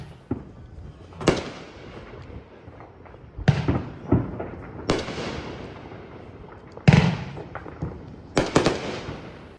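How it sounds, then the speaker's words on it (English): Neighborhood fireworks go off in the distance: several sharp bangs and crackling bursts spaced a few seconds apart, some echoing, with quiet stretches between. "ended the night with some neighborhood fireworks"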